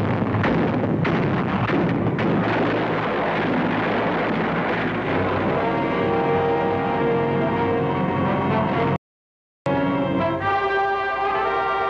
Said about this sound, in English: A phosphorus shell bursts on shore in the midst of the defending Japs